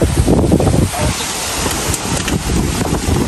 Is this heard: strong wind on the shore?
yes